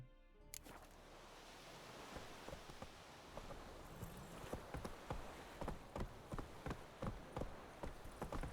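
A horse's hooves clip-clop at a steady trotting rhythm while riding in The Witcher 3, the hoofbeats growing gradually louder over a soft, rain-like background hiss.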